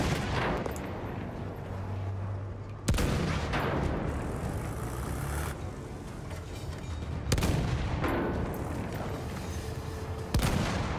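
Heavy tank cannon fire in Battlefield 1, with booming shots landing roughly every two to three seconds over a constant rumble of battlefield noise and distant gunfire.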